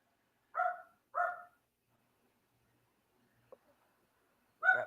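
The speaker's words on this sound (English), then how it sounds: "That poor neglected dog." A dog barks twice in quick succession, pauses, gives a faint short yip, then barks once more; the sounds are clear and fairly near against a quiet background.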